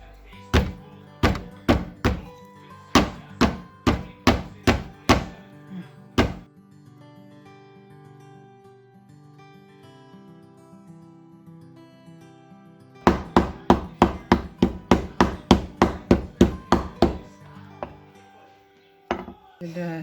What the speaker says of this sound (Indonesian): Sekarang kita pukul-pukul.